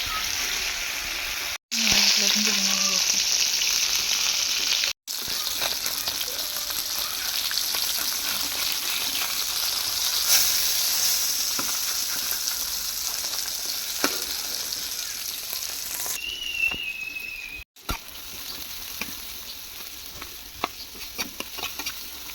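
Spices sizzle and fry steadily in a pan as they are cooked down, a continuous close hiss with occasional stirring scrapes and brief breaks, with no talk.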